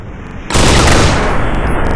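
Gunfire in the mobile shooter Counter Strike Commando Mission bursts in after a brief quiet start, a loud, continuous rapid-fire rattle of automatic weapons that holds steady to the end.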